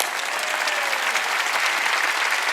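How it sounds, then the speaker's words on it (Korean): A church congregation at a Wednesday worship service claps hard and loudly, a dense, steady wash of many hands filling the room without pause for a few seconds. "빨리 박수 쳐. 세게 쳐. 세게 치라고."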